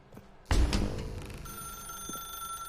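A telephone rings in The Stanley Parable, a sharp electronic ring that begins suddenly and continues with a steady high tone over a muffled room ambience.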